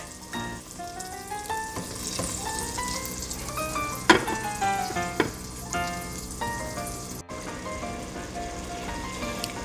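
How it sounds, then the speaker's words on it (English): Medium-sized shrimp sautéing with butter and garlic in a pan give a steady, fairly loud sizzle throughout, with a few sharp clinks of a utensil and faint background music running beneath. "So we'll just saute it with the butter and the garlic."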